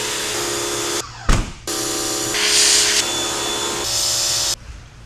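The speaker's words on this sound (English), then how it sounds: "I'm just gonna take the pressure washer and spray through that" A pressure washer sprays into the crevices of a car body. The loud, hissing blast runs in several bursts, broken by short clunks and a brief gap as the spray shifts position. No one speaks.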